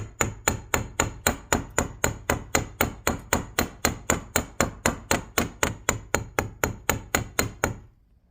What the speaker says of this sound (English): And you try and hammer straight up and down.